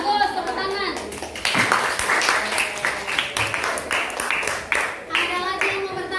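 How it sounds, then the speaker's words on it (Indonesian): A classroom of students clapping together in quick bursts, a rhythmic patter of many small hands with children's voices and chatter mixed in around the applause. "Bagus, tepuk tangan."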